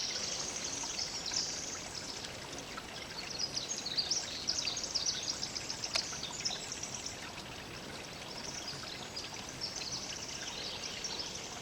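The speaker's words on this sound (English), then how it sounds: "So just listen to the sound of the water." An outdoor stream rushes and babbles in a steady, even wash of flowing water, close and continuous, with no voices.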